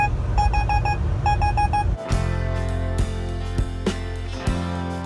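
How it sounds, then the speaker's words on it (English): Collision warning in a Volvo 760 truck: a loud series of rapid electronic beeps for about two seconds, then a braking transition with a few sharper tones and low rumble while the truck slows itself. "the truck is just beeping and warning me and warning me"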